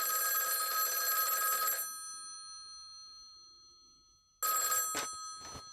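A telephone rings with a bright electronic trill, pauses in silence, then starts ringing again near the end.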